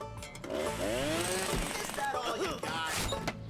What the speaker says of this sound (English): It makes construction sound effects and sometimes drops random power tools from the sky.